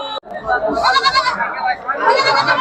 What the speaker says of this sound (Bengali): দেখেন ছাগলের পাল দেখেন একবারে ছাগলের পাল, হাই কোয়ালিটি সব